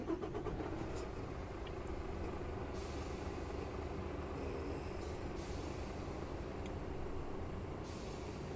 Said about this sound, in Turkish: hemen şöyle bir aracı start verelim